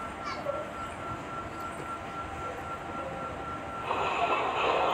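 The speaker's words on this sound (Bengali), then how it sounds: "এটা হচ্ছে বাচ্চাদের জন্য একটা ট্রেন, ছোট বেশি বড় না" A small children's ride train at the Bangladesh Air Force Museum in Dhaka rumbles steadily nearby, with a faint whistle-like tone early and the rolling noise growing louder toward the end.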